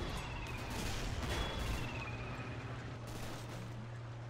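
Sustained automatic gunfire from a German submachine gunner in the Men of War tank-and-infantry battle, a dense continuous clatter of distant shots over low rumbling engine drone from advancing Panther tanks, with no voices.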